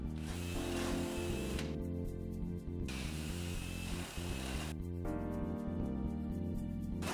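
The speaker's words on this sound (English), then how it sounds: "Run the 3/16 drill bit through the holes in the bulkhead and install rivets as you go." Mechanical whirring with strong droning tones, steady and close, shifting pitch in stretches as a 3/16-inch drill bit runs through bulkhead holes and rivets are installed on a DF Goblin floor panel.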